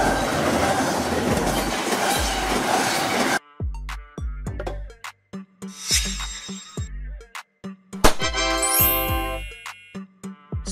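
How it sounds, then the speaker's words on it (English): An intermodal container freight train rolls along the rails: a loud, dense rumble for a few seconds, then a sparser run of rhythmic wheel clatter and thumps with some metallic ringing and squeal. "Container train, a freight train that carries intermodal containers"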